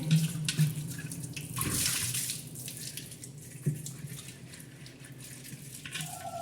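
Water runs and sloshes inside an old earthen water pot as it is filled and rinsed, with a few splashes and knocks nearby and no voices.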